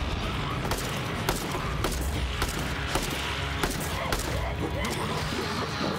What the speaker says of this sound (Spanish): las explosiones me están reventando